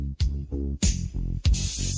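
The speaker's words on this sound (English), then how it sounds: "spraying Parrot Clear Coat once again." A spray gun hisses out Parrot clear coat onto Toyota Century chassis parts in a few close bursts broken by short pauses, with a low mechanical hum underneath and no talking.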